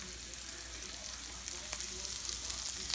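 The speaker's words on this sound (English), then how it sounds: "So we're gonna finish it on a stove on high heat with just a little lemon zest." Green beans sauté on a stovetop pan over high heat with a little lemon zest, giving a steady, close hiss of frying that holds evenly throughout with faint stirring clicks and no talk.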